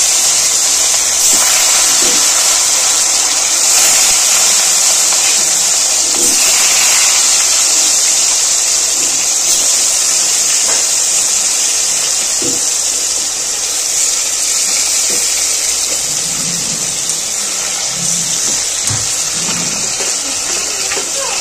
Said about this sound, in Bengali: তেল গরম হয়ে গেছে। আগে থেকে নুন হলুদ মাখিয়ে রেখেছি মাছগুলো দিয়ে দেবো তেলের মধ্যে।